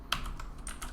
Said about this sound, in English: Being the fact that it is a mechanical keyboard, it does tend to be a little bit louder for typing than some keyboards.